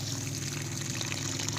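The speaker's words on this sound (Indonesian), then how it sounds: "Seperti ini ya, siram yang banyak." Water poured generously into a potted Brazilian grape plant, a steady, fairly loud trickling rush that runs continuously through the short stretch with no voices.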